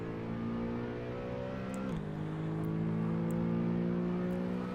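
Race car engine in the Assetto Corsa racing game on the Nordschleife, a steady droning note that shifts down at a gear change then holds and builds as the car accelerates out of a corner, loud and alone without talk.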